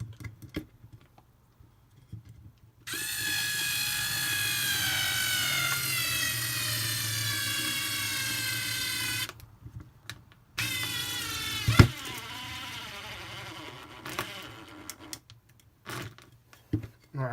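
Black and Decker cordless electric screwdriver driving small screws into timber, two bursts of high whirring motor whine, the first long and steady, the second shorter and falling in pitch, separated by clicks and handling noises.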